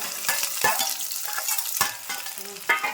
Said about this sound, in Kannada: ಈ ಉಳ್ಳಾಗಡ್ಡಿ ಲೈಟಾಗಿ ಗೋಲ್ಡನ್ ಕಲರ್ ಬರೋ ತನಕ ಫ್ರೈ ಮಾಡ್ಕೋಬೇಕ್ರಿ